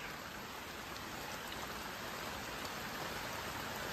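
Rain falls steadily outdoors near a sponge gourd garden, a dense, even hiss of drops striking surfaces that holds constant throughout, with no voices.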